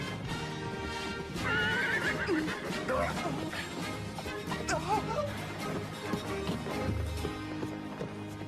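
A horse whinnies loudly several times while its hooves clip-clop nearby, amid commotion and people talking in French.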